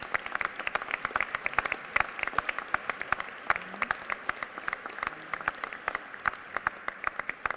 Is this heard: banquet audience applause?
yes